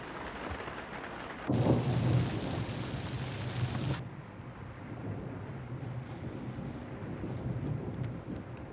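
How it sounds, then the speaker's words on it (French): Steady rain hisses throughout, with a burst of thunder rumbling loudly for a couple of seconds before the downpour continues alone. "Ah, si seulement cette pluie pouvait s'arrêter."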